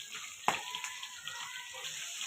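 Chopped onions sizzle in hot oil in a pan just used to fry katla fish, giving a steady close frying hiss with one sharp crackle near the start and no voices.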